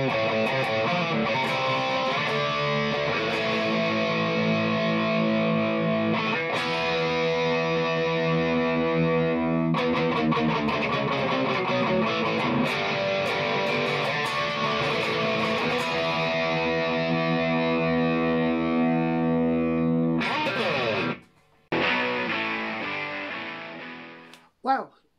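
Fazley and Harley Benton DC Junior electric guitars play chords and riffs through distortion, loud and sustained, one after the other, before the playing cuts off abruptly near the end.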